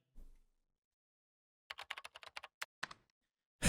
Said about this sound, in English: she began typing on the keyboard with an angry expression